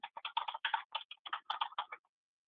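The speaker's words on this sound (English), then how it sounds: "I can just type in my name" Fingers tap out a name on a computer keyboard in a fast, uneven burst of clicks lasting about two seconds, close and clean, then stop.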